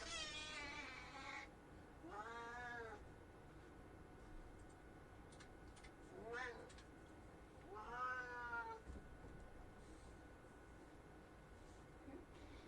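Indoor house cat meowing repeatedly, several drawn-out plaintive meows spaced a few seconds apart, close and fairly clear over quiet room tone, with a faint ticking in the background.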